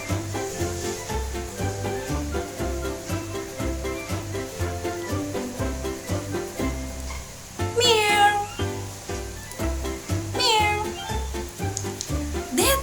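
A domestic cat meows several times, with the clearest calls around the middle and near the end, all set over steady rhythmic background music.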